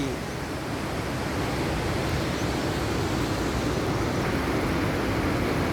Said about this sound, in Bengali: ওই দিক থেকে একটা ঝর্ণা নেমে আসছে